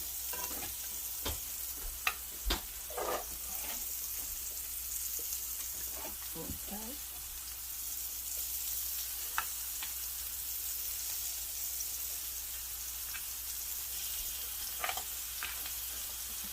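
Mushrooms fry in olive oil with a steady, fairly quiet sizzle, broken by occasional utensil scrapes and clicks from stirring in the pan.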